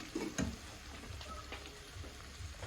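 Fish curry ingredients fry in oil with a soft crackling sizzle and a few brief stirring knocks near the start, close but low in level, with no talking.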